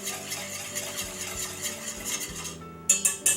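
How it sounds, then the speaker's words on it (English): A spoon stirs a lemon-and-acid venison marinade in a bowl, giving soft repeated scraping and clinking over a steady low hum, with a few sharper utensil knocks near the end. "Just stir this up a little bit"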